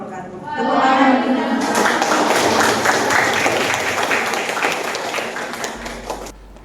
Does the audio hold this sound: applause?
yes